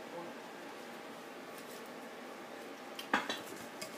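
Grilled pork is mixed with seasoning in a bowl, sugar and salt among the ingredients: soft background rustling, then a few clinks and scrapes of a utensil against the bowl near the end, faint and close.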